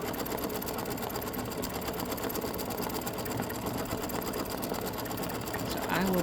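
An embroidery machine stitches a Christmas ornament, satin-stitching around its edge with a steady, fast mechanical chatter throughout, close and constant, with a brief louder bump right at the end.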